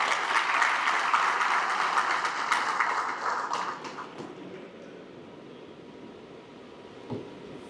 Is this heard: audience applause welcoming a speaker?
yes